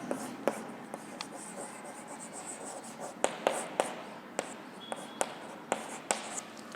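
Chalk tapping and scratching on a board during a chemistry lecture, sharp irregular clicks and short strokes close by, with faint speech in between.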